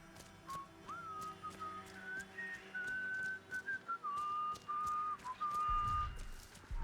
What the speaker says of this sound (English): I do love the fact they are literally whistling wheels on the bus.